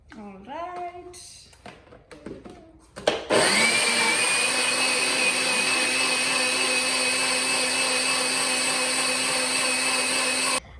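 A blender whirs loudly and steadily for several seconds as it purees watermelon with mint leaves into juice, starting abruptly after a few seconds of talking and running at a constant high whine until cut off.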